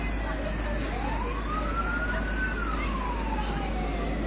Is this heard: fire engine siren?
yes